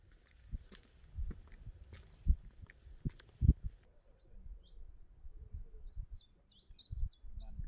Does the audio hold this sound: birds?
yes